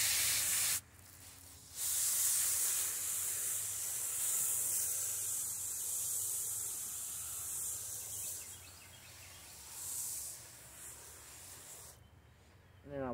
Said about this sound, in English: I have the mister on. We're just going to mist them in.